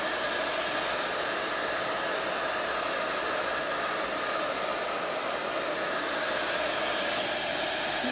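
A hair dryer blows steadily at close range while a beard is dried and smoothed, a constant loud airy roar with no pauses and no voices.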